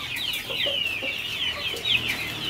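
Chickens and young chicks in a tiered coop, a steady chorus of high peeping chirps mixed with lower clucks, close and continuous.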